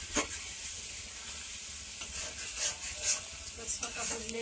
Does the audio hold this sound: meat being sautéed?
yes